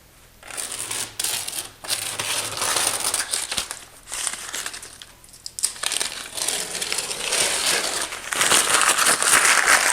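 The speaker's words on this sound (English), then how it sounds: "I can pull that tape off now" Adhesive tape being pulled and peeled away during iron baluster installation, a crackling, crinkling sound that comes in bursts of several seconds with brief pauses between, close and fairly loud, with no talk.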